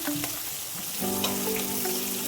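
Chopped capsicum sautéing in a hot pan for street-style butter pav bhaji, a steady bright sizzle with a faint hum beneath, continuous and close, no voices.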